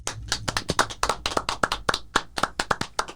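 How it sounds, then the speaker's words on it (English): Several hands clap in a quick, uneven burst of applause for the first Black woman to coach in professional baseball, a hitting instructor for the Red Sox. The claps are sharp and close, with no talking. "So claps for her."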